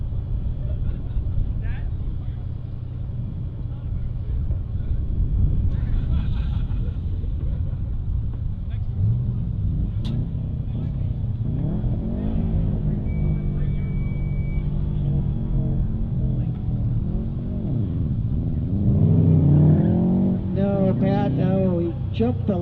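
Drag race cars, a Subaru and a Camaro, rumble at the line with a steady low engine drone that swells near the end, under continuous commentary talk.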